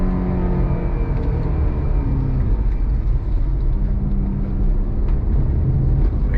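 Ferrari GTC4 Lusso T engine while driving, a steady loud low drone with layered harmonic tones and continuous road rumble, no voices over it.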